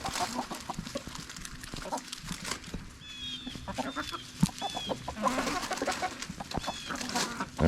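Chickens in a backyard coop clucking and squawking close by, irregular bursts of clucks with a few higher calls, fairly quiet overall.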